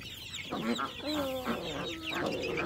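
Farmyard chicks clucking close by, a few short, nasal clucks and rising calls in irregular bursts filling the space.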